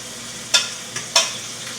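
Onions and garlic cook in a pan, with three short stirring scrapes over a quiet background sizzle, close and alone with no talk.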